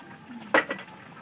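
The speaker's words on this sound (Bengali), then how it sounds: "নাড়িয়ে দেবো একটু।" A single brief scrape and clink of a utensil against a pot as whole garam masala and leaves are stirred, close and crisp over quiet background.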